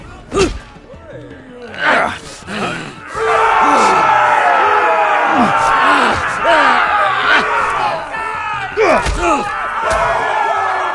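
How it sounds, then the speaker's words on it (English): In a Game of Thrones video game, an arena crowd roars and cheers in a sustained dense wave, with shouted voices and thudding combat impacts punctuating it. "We cannot let the crowd go wanting!"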